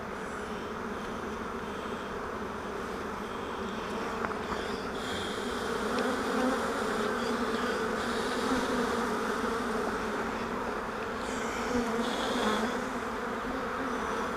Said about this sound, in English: A little cluster of bees right there on the